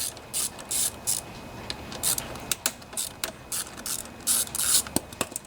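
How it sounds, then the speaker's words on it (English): An 8mm socket ratchet works loose the bolts on a Honda EU2000i generator, giving bursts of rapid clicking pawl ratchet strokes in an uneven rhythm, close by with short pauses between them. "So this is an 8mm socket here, and I think you can just loosen these up."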